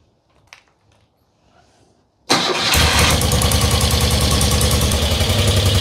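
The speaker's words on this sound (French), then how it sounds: "on va mettre en route, et puis on va voir si c'est mieux" An engine cranks and catches after about two seconds of near silence, then runs loud and steady at idle, following an idle-speed adjustment made with the tuning screws.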